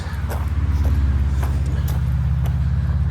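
Near a trailhead on the Appalachian Trail, a car gives a steady low engine rumble close by, running continuously with faint clicks and outdoor noise over it.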